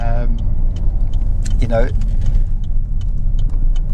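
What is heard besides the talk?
Vauxhall Insignia 2.0 CDTi car driving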